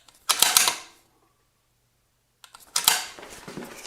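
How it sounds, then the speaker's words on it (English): Dry firing a precision rifle: two sharp close mechanical clacks separated by a silent pause, the bolt closing and the trigger breaking with a crisp metallic snap and brief rattle. "I'll close the bolt and press the shots off"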